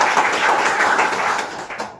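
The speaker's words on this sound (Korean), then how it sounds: "큰 박수로 모시겠습니다." An audience applauds at a law firm's corporate legal seminar in Daejeon, a dense, even wash of many hands clapping that carries on steadily, then thins out and stops abruptly.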